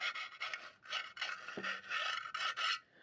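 A metal file rasps burrs off the edge of a metal part being converted into a pressure-cooker distilling apparatus, in a series of short scraping strokes that repeat at a steady, quick rhythm, close and fairly loud.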